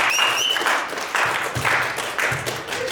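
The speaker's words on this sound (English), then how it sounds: "Everybody clap your hands for Doe Dubes." A crowd applauds with dense, steady clapping throughout, fairly loud and close, with faint voices mixed in.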